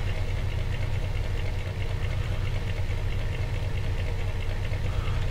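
Steady mid-pitched motorbike engine idling and running in the video game Empyrium, a continuous droning hum with a slight knocking pulse, close and alone with no talk.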